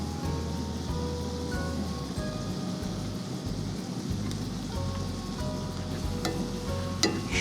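Shrimp sizzles steadily in a pan, cooked inside a truck for tacos, a dense continuous frying crackle that stays close and even throughout.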